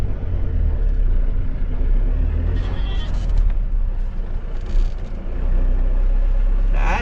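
A continuous low rumble of road traffic from a moving vehicle, with a six-wheeled Eicher truck driving close behind on a ghat road and people talking throughout.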